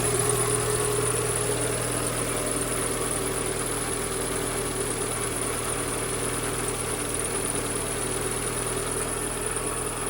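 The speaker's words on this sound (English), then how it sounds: "Sweet little engine." A small Renault Clio engine idles steadily under the car during a service, a constant even hum and buzz with no revving, close and alone for the full stretch.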